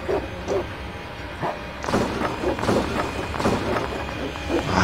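In the horror video game Incubo, a dog barks in a series of sharp, repeated bursts that grow denser and louder toward the end.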